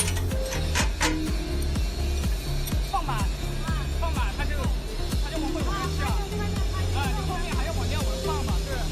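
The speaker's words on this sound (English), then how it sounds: "Thread is processed by vertical rolling machine." A vertical thread rolling machine processes screws in a factory, producing a continuous rhythmic mechanical clatter of rapid regular clicks and ratcheting over a low machine hum, loud and close throughout.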